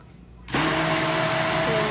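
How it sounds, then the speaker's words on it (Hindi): An electric kitchen mixer-blender switches on partway through and whirs steadily, blending yogurt and gram flour for kadhi; a loud, continuous motor drone with no talk. "मैंने 1 कप योगर्ट पहले से इसमें डाल के रखा है अपने मिक्सर में। तो हम इसको बेसन इसमें मिक्स कर देंगे पहले"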